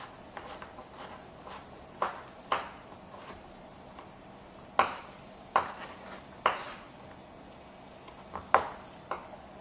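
A knife cuts zucchini into quarter slices on a board, giving about a dozen crisp, separate chops at an uneven pace. The cuts are close and clear over a quiet room.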